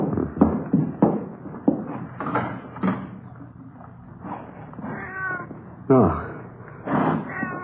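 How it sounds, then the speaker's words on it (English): Cat meows heard as a radio drama sound effect, several short cries mixed with voices talking over them and a couple of knocks or bumps. "maybe it's just a cat out in the street"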